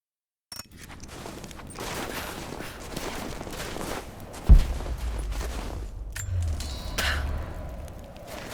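Scattered gunfire from a firefight in the Rise of the Tomb Raider video game, with a dense, steady wash of shots and movement and one sharp, louder blast near the middle, heard without speech.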